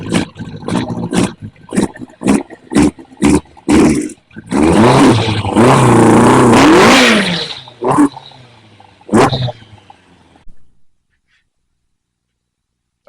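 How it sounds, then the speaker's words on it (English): A Kawasaki ZX-11 motorcycle engine barks through a series of sharp, loud revs, then holds a long rough roaring run before a final blip and a fade into silence. "it makes proper motorcycle sounds"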